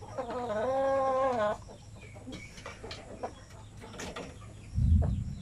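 A Shamo Aseel chicken gives a drawn-out harmonic cluck or call near the start, followed by quieter scattered farmyard sounds and a low thump near the end.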